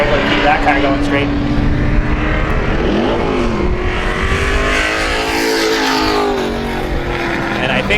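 Loud roar of race cars circling a speedway track in a feature race, engines droning and shifting pitch as they pass, with an announcer's voice faintly mixed under the noise.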